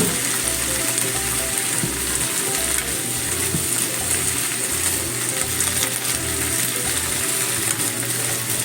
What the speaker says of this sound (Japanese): そして一緒に炒めていきます。